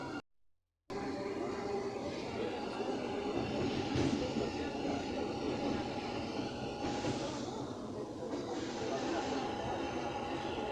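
Bangalore metro train running between Baiyappanahalli and Sandal Soap Factory: a steady, loud rumble of cabin and rail noise fills the ride after a brief silent gap at the start, with faint voices mixed in.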